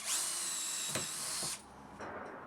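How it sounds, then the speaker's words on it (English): A power drill bores a hole for a bolt in wood, a high whining spin lasting about a second and a half before stopping, followed by a brief second burst. "in the centre of the hole I can drill a hole for the bolt"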